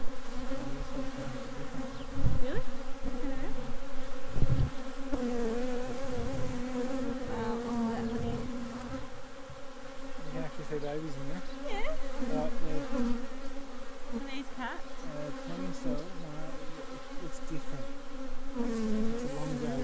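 Honey bees at a hive swarm with a dense, continuous buzz, close and loud, their droning hum holding steady throughout with small swells and a few sharper passes of individual insects near the mic.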